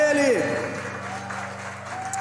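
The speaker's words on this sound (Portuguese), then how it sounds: "Aplauda Ele." A church congregation applauds softly after a hymn, moderate clapping fading over two seconds beneath a sustained musical tone and a falling sung or spoken voice.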